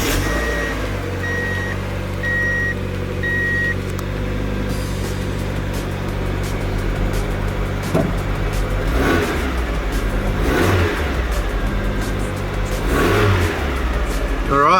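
A Mazda MX-5's engine runs steadily after a heater-return O-ring and coolant job, with a few throttle blips swelling the exhaust note; a brief series of electronic beeps sounds early on.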